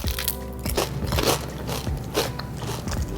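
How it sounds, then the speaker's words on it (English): Crisp bites into a thin, lacy rava dosa made from semolina batter, with several loud, close crunches and crackles in quick succession and no talking. "Do you hear how crunchy it is?"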